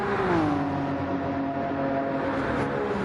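A race car engine in Gran Turismo 7 holds a steady, droning high rev during a fast lap at Fuji International Speedway, its pitch dipping slightly early on and then staying even and continuous.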